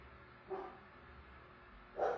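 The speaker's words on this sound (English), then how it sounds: "the barking dog." A neighbor's dog barks faintly in the distance, two muffled barks about a second and a half apart over a quiet room hum.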